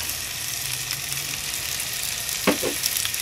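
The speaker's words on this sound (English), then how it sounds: "now that our butter is melted, we're going to add 3 tablespoons of heavy cream" Heavy cream poured into melted butter in a pan, a steady soft sizzle throughout with a brief louder splash and bubbling burst near the end.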